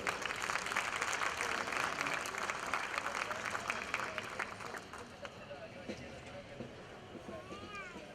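Applause rises from the audience at a royal family talk show, a broad crowd clatter that is loud at first and gradually thins out, with some voices and chatter mixed in as it fades.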